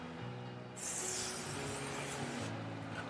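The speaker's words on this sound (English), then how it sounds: "Here we spray in our cat eye mantis." A hand spray bottle mists water into a cat eye mantis enclosure, a steady close hiss lasting over a second before trailing off into faint background rumble.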